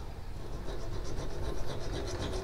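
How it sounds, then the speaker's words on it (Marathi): Hacksaw blade cutting a rusted padlock, heard as a steady rasping scrape with repeated back-and-forth strokes, fairly close and continuous, no talking. "आम्ही ट्राय तर करतोय एक्सो ब्लेड कापायला पण होत नाही"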